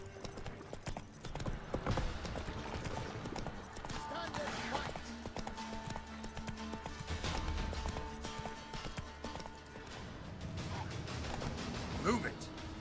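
Roach the horse gallops in The Witcher 3, a steady run of hoofbeats clattering close and loud throughout, with someone talking over the hooves.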